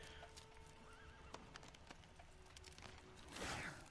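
Roach, the horse in The Witcher 3 video game, gallops with steady clip-clopping hooves and a brief whinny partway through, rising into a louder burst of hoofbeats near the end, with no talk over it.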